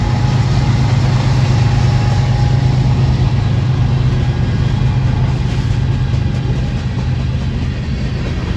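Vehicle engine running steadily with a low, droning idle hum, constant and close throughout with no voices.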